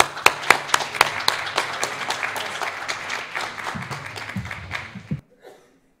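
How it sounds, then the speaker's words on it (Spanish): Audience at a journalism seminar breaking into applause, a few sharp early claps swelling into steady clapping with some murmuring, then cutting off abruptly into near silence. "fuerte el aplauso para..."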